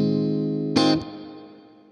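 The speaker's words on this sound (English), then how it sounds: "Sounds fine, there's your spring." A sustained guitar chord runs through a simulated Fender Twin Reverb amp with its spring reverb in the Amplitube app, then a sharp burst as the spring is jolted, followed by a fading, ringing tail.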